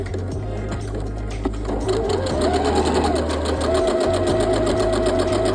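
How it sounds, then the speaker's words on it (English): A sewing machine stitches a denim pocket bag for a dress, running loud and close with a steady rapid hum and rhythmic needle chatter, briefly easing before resuming at an even pace. "And then you're gonna start stitching and back stitch."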